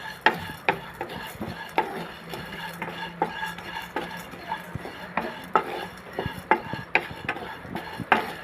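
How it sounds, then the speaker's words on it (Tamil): A spoon stirs and scrapes spiced masala with curry leaves roasting in a pan for brinjal rice, making repeated close clinks and knocks at a steady rhythm over a soft background hiss. "இப்போ இந்த மசாலா கூடவே ஒரு கொத்து கருவேப்பிலை போட்டு நல்லா வறுத்துக்கலாம்."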